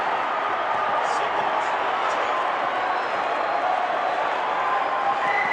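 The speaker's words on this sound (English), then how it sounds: "And listen to the crowd!" A big stadium crowd roars continuously at a 1991 rugby league grand final after a try, a dense, sustained wash of cheering that stays loud throughout.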